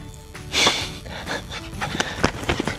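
A dog pants close by in quick, rhythmic bursts of breath, with a few louder huffs and snorts in a fairly quiet room and no talking.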